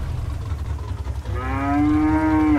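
A cow in the Euro Truck Simulator 2 video game gives one long, loud, drawn-out moo in the second half, over a steady low rumble of background noise.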